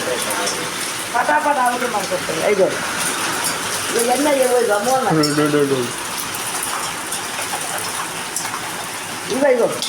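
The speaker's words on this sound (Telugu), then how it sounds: "రాత్రి వడగండ్ల వాన పడింది" A nighttime hailstorm pours down as a constant dense patter of rain and hail, while a person talks over it for most of the stretch.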